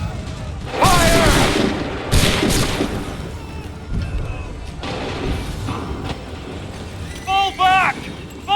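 Musket volleys crash out in an Assassin's Creed III battle: a few loud, ragged bursts of gunfire close together, with shouting voices in between and a rumbling battlefield background.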